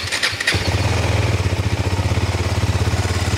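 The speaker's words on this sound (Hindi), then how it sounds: "So let's fire up the engine and listen to the exhaust sound." A 2020 Husqvarna Svartpilen 250 single-cylinder motorcycle on its stock exhaust fires up after a brief starter whir and settles into a loud, close, steadily thumping idle with a rapid even pulse.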